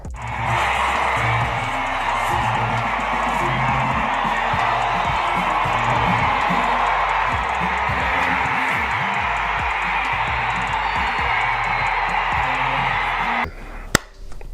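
Stadium crowd roaring and cheering for Olympic marathon runner Eliud Kipchoge, a dense continuous wall of sound held loud for the whole stretch, with a sharp bang near the end.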